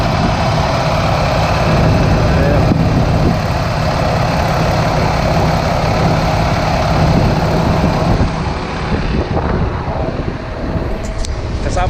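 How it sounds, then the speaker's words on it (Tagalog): A truck engine idles loud and steady close by during a pre-trip check, with a constant low rumble and vibration throughout and a person talking over it at times. "So ito nga yung makina niya,"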